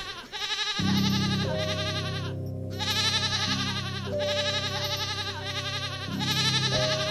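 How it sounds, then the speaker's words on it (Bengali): A goat bleats at night: several loud, drawn-out, wavering cries follow one another closely with short breaks between them. "এত রাতে ছাগলের চিৎকার কেন?"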